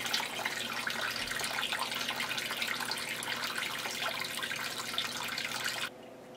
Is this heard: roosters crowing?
no